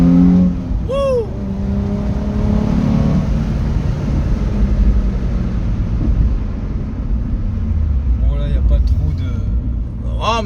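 A Nissan 350Z engine pulling and accelerating while driving, heard from inside the car as a loud, steady drone with rising revs, with people talking over it.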